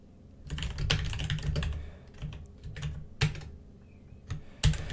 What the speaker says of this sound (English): if we press enter and then type git remote